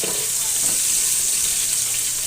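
Ginger sizzles steadily in a hot pan, a continuous close frying hiss with faint scrapes early on and no talking.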